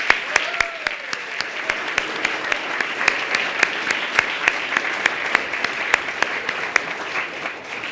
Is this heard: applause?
yes